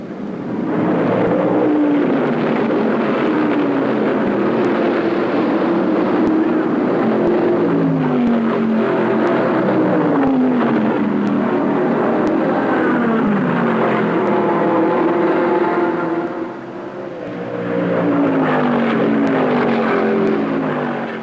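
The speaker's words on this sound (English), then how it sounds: "These are Group 7 sports cars" Group 7 sports cars race on a track laid out to test drivers at better than 100 miles an hour, a loud, continuous engine roar whose pitch rises and falls as the cars pass, with no voices.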